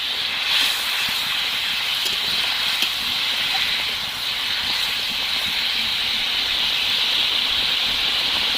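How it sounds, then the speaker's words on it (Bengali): Rohu fish curry gravy boiling hard in a pan after fried fish and ground garam masala are added, giving a steady, dense bubbling hiss with faint pops that holds evenly throughout. "আর এক মিনিট মতো ফুটিয়ে নেব"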